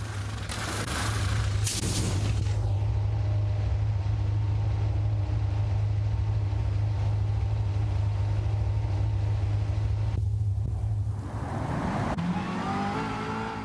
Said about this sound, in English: I'm going to be entering the pit lane right here to refuel the car